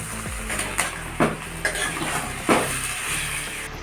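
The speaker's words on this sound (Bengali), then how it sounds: "এবার মিষ্টি কুমড়াগুলোকে ঢেলে দেব সবগুলো ভালো করে কষে নেব" Pumpkin pieces tipped into a pan with onion paste and stirred for a Bengali prawn and pumpkin dish: a steady sizzle under a few sharp clacks of the spatula against the pan, close and moderately loud.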